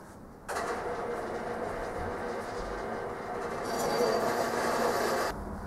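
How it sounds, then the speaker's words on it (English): A bandsaw cuts plastic model kit parts off the sprue, a continuous broadband whirring and rasping that starts abruptly, holds steady for about five seconds, swells slightly near the end and then stops. "Start by cutting the parts off the sprue with the bandsaw."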